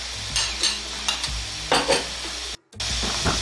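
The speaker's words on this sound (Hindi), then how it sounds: "दही के साथ ही 5 मिनट इसको अच्छे से भून लेंगे" Keema masala frying with whipped yogurt sizzles steadily in a pan while a spoon stirs and scrapes in several distinct strokes, close by; the sound drops out briefly near the end before the sizzle resumes.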